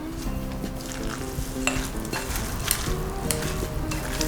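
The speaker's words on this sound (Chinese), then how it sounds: "把它搅拌均匀" Soybean flour mixture is stirred in a bowl with a utensil, giving continuous close scraping and soft clinking strokes at a steady, moderate level.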